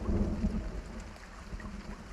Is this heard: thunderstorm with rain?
yes